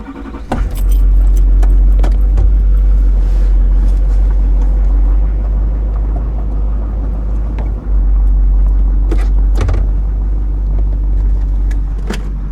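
A car idles close by with a steady low engine rumble as it begins backing out, a brief dip near the middle before the motor carries on, with faint clinks over the top.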